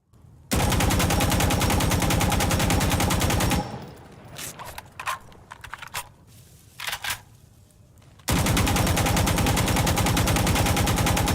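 Sustained automatic fire from an AKM rifle in Insurgency Sandstorm, fired at wooden cover; two long, loud, rapid bursts bracket a quieter stretch of scattered impacts and clatter.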